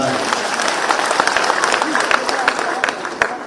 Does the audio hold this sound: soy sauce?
no